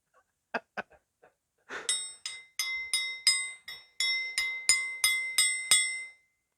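Hardened steel rings out under a series of light strikes: a few dull taps first, then about ten bright, sustained metallic pings in a steady rhythm, close and clear with nothing else around.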